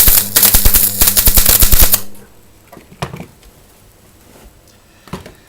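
Arc welding a blob of weld onto a snapped stud in aluminium: a loud, dense crackling buzz for about two seconds, then it stops, leaving faint scattered ticks and pops.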